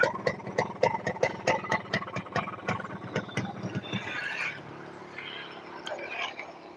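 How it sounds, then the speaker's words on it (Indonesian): A Yamaha RX King motorcycle engine idles close by with a steady, rapid ticking two-stroke pulse in the first few seconds. Afterwards it fades under a broader hiss and a few sharp ticks. "suara mesinnya, ini suaranya uang"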